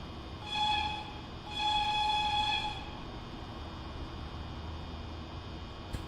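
A DB class 103 electric locomotive in the simulator Train Sim World 3 sounds two horn blasts, a short one and then a longer one, over a low rolling rumble that carries on alone after the horn stops.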